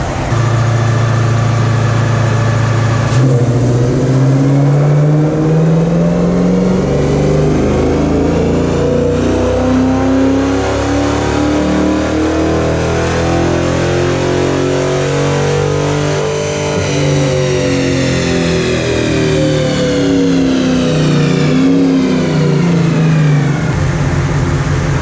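A full-bolt-on Dodge Charger R/T roars through a sustained rev on a dyno, its pitch sweeping up and down across the run before cutting off near the end, loud and close with no talk over it.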